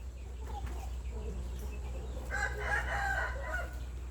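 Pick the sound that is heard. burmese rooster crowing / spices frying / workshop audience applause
burmese rooster crowing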